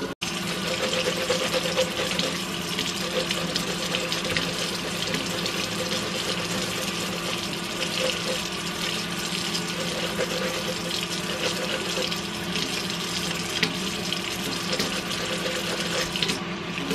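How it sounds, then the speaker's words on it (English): Tap water runs steadily into a sink while cups are rinsed, a constant rushing splash with no pauses for the whole stretch and no voices over it. "give them all a good rinse, and then I think I'm actually going to use some soap"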